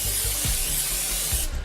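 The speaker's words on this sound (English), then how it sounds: "Here's a little bit of cooking spray in there." A steady cooking spray aerosol hisses into a pot for about a second and a half up close, then cuts off.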